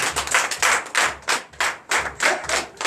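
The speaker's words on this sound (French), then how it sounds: "Donnez l'acclamation dans Seigneur Jésus" A congregation claps in rhythm during a Sunday church service in Benin, with loud, regular beats in a steady pulse of roughly three claps per second and no talking.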